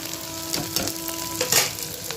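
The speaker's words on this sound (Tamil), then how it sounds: "அதையும் சேர்த்து நல்லா வதக்கிக்கிடுவோம்" Onions and 7–8 broken dried red chillies sautéing in a pan for a mutton lunch dish, a steady sizzle broken by occasional scraping stirs, close up with no talking.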